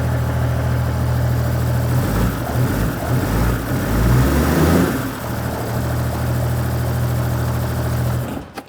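Deep, steady idle of an L83 V8 in a Land Rover Defender 90, loud and close, with a brief rise in revs in the middle before it settles again and cuts off at the end.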